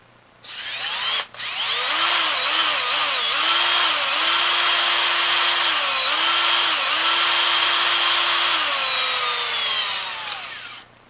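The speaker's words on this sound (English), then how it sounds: "we're just going to slowly drill it out" A power drill whirs steadily at close range, slowly boring through wood for a bow, its pitch dipping and recovering as the bit bites in, running for about ten seconds.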